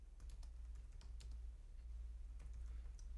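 Soft, rapid keystrokes on a computer keyboard while text is entered in Premiere Pro 2024, quiet and close, a run of uneven clicks with brief pauses and no speech.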